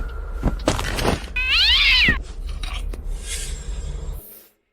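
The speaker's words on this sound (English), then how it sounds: "Can't they hear the cat meowing?" A cat meows loudly in a drawn-out, wavering cry, preceded by scraping rubbing sounds and thuds, then fading into quieter rustles.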